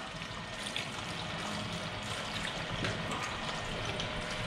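Steady running water from a tap while hands and forearms are rinsed at a small washbasin in a tattoo shop, a continuous broadband rush that stays even and fairly close throughout, with no talking.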